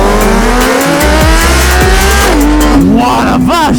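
A BMW S1000RR sport motorcycle engine revs hard close by, its pitch climbing and dropping in quick sweeps with a brief squeal.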